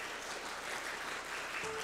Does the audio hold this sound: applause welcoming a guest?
yes